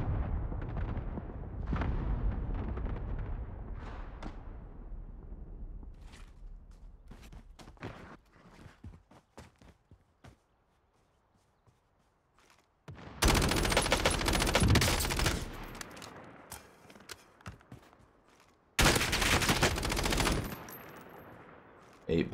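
Bursts of rapid gunfire in a Warzone match: long loud automatic volleys crackle up close, separated by quieter stretches of movement and a near-silent pause.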